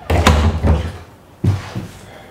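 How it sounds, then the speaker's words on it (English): French doors are pushed shut from inside a kitchen, giving a sharp double thud near the start followed by a second, softer knock about a second later, all close by with no talking. "close these French doors behind me"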